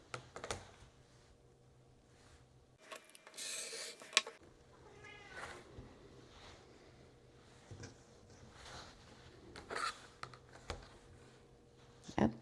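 A domestic cat meows a few times indoors amid soft tapping and rustling from sewing work, the calls short and moderately close against a quiet room background.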